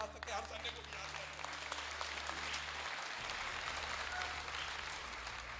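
An audience at a program for Pakistanis living in Germany breaks into applause, a sustained, fairly even patter of many hands clapping, moderately loud with a low hum underneath.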